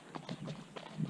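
Hoofbeats of a tall two-year-old colt doing road work on a road, a quick run of faint, evenly spaced clip-clop strikes over about a second.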